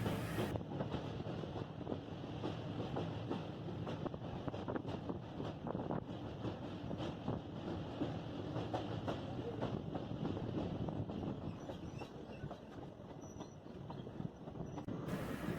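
A passenger train runs steadily along the Lumding to New Haflong line, its continuous rumble and rattling of wheels on track filling the whole stretch, with some wind buffeting mixed in.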